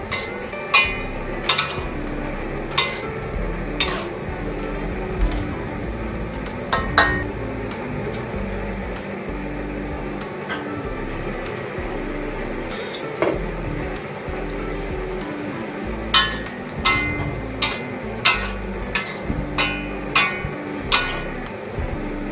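Fried Japanese tofu being stirred in a pan with prawns and broccoli, a utensil scraping and clacking against metal in irregular sharp knocks over a low sizzling kitchen background, close and moderately loud, no talking.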